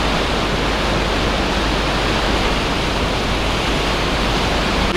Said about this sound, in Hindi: बहुत तेज साउंड आ रही है वाटर की।